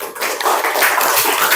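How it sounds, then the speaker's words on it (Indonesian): Students in a classroom clap together in a short, dense burst of applause that fills the space evenly for under two seconds. "Ya, tepuk tangan lagi dong."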